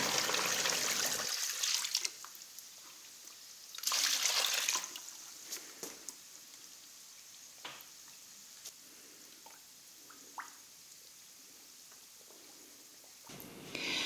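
Water runs from a tap onto clay in bursts of hissing flow, two longer pours and a final short one. Quiet gaps between them hold faint squishing and small dribbles.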